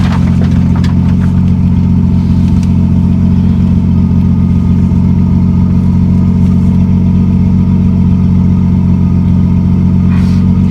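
A turbocharged 2JZ-GE engine in a 1987 Toyota Supra runs with a loud, steady low-pitched drone, holding near and constant as boost builds, with no talk over it.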